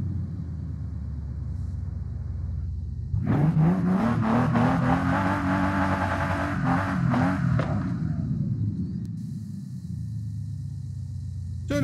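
Porsche 911 Carrera RS engine in the video game Forza Horizon 5: a low idle rumble swells into a sustained, loud rev for several seconds, then drops back to a steady idle.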